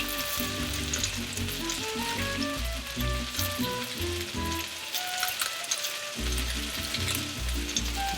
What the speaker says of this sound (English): it's going to kind of make a little sear, and then it'll release from the wok